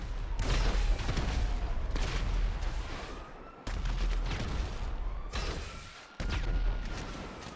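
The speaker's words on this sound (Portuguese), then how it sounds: "começou a guerra de explosão, hein?" Dense, continuous gunfire and booming explosions from the video game GTA V, loud and sustained, with two brief drops before the barrage resumes.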